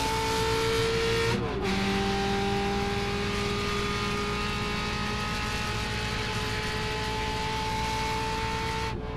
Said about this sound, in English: you can see him get to the gas and gain just that one little car length